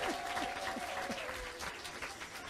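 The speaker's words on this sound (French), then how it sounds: "je vais nous applaudir" An audience at a Caribbean Christmas contest show applauds, a soft, distant, continuous wash of clapping with a brief tonal whistle-like sound at the start and faint voices underneath.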